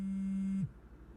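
A steady electronic phone tone, like a ring or call signal, holds at one pitch for about half a second and then cuts off abruptly.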